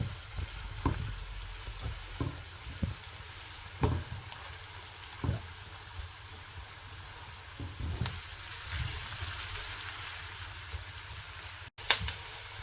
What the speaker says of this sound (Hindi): 2 से 3 मिनट तक ओनियन को कुक करेंगे।